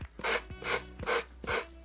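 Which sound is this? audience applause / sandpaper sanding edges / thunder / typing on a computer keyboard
sandpaper sanding edges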